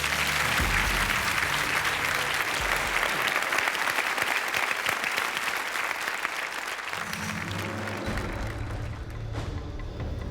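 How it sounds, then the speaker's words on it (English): Sustained applause from a large crowd, dense steady clapping filling the whole stretch without a break. "Big round of applause."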